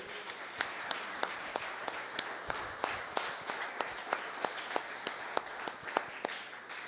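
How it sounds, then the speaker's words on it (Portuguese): A church congregation claps steadily in a hall, the sharp individual claps spaced and distinct at moderate distance over a low background hum, fairly quiet overall. "Você pode aplaudir ao Senhor?"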